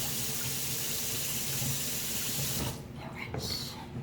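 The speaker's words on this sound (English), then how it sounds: "I'm gonna rinse them out, guys, real quick." A kitchen tap runs while vegetables are rinsed under it, a steady close splashing stream that cuts off near the end, followed by a few brief drips and handling noises.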